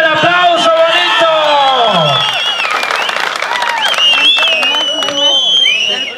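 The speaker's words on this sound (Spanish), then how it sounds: "venga el aplauso bonito" A crowd at a ranch boxing event applauds and cheers loudly and steadily, with whoops and whistles rising over dense clapping.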